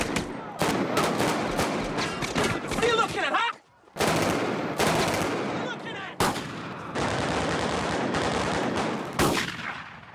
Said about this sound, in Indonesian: Pada aksi baku tembak itu, John terkena di bagian lengannya.